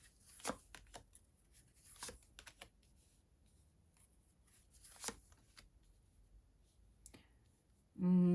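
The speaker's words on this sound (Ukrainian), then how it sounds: "Зараз я ось тут докладу три карти." Tarot cards being laid out: soft, sparse card clicks and slaps at irregular intervals, fairly quiet and close, followed by a sudden loud thump at the end.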